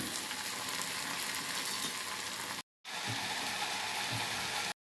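Soaked chickpeas and a potato sizzle loudly in hot oil for a kara kuzhambu with green turkey berries, a dense, steady frying hiss that cuts out briefly and then resumes.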